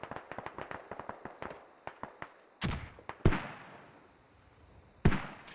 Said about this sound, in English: Mortar's going down, enemy radio.